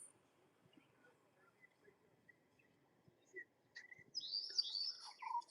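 Myna birds on a lawn give faint, scattered chirps over a quiet outdoor background, then a louder run of calls near the end.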